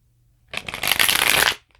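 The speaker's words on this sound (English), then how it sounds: "I've already shuffled pretty good." Tarot cards riffle-shuffled close by in a quiet room, one dense burst of flapping, whirring card noise lasting about a second, with no talking.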